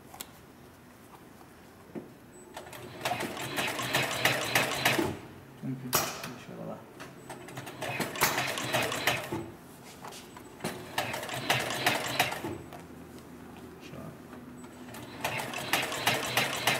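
A heavy-duty sewing machine for leather sofas and armchairs, fitted with a roller presser foot and sewing thick thread, stitches in repeated bursts of rapid mechanical whirring with short pauses between, while people talk nearby.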